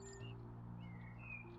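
Faint bird chirps sound in the House Flipper video game. Thin, high tweets drift over a steady low hum of ambient background sound.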